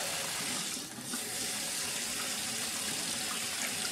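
Kitchen tap running water over lentils in a sieve, a steady close hiss of splashing flow with a brief dip in intensity early on, continuous throughout.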